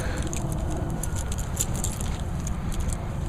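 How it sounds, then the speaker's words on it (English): Metal keys jangle in short bursts while unlocking a locked building door, a steady bed of outdoor rumble and low traffic-like noise running underneath throughout. "Let me get my keys here because it's obviously locked."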